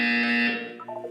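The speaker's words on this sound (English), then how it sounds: "You will hear a buzzer." A loud electronic buzzer from the video game Portal 2 sounds as a steady harmonic tone for about half a second, then fades into softer, lower wavering tones, with no voices present.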